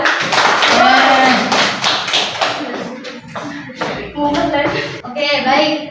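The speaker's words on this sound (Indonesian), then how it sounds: "Saya beri tepuk tangan ya." A classroom of students gives a brisk round of applause during a peer-teaching science lesson. Close, uneven claps come in bursts, with talking and voices mixed through.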